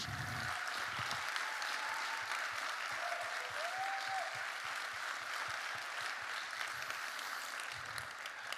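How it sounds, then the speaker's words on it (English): Conference audience applause at a closing ceremony, continuous clapping from a large hall filling the whole stretch, with faint low thumps and a brief tonal sound partway through. "there should be a big, big applause to my colleagues"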